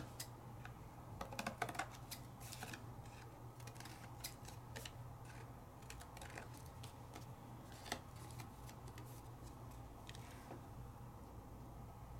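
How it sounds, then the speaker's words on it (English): Scissors snip JEJE peel-off stickers during a paper-crafting session: a quiet run of small, crisp clicks and snips spread over a steady low hum, with no one speaking. "I'm just gonna trim them down."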